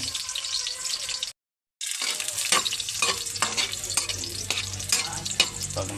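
Garlic sizzles and crackles steadily in hot cooking oil in a pan, with stirring clatter and scraping, interrupted by a brief gap of silence before the frying resumes, close and continuous with no talk.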